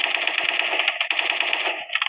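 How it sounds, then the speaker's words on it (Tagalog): A Gatling gun fires in the Special Force 2 video game as a rapid, unbroken stream of sharp, loud shots, briefly pausing near the end before resuming. "Kita nyo guys, ubos kagad sila kasi nga Gatling gun to."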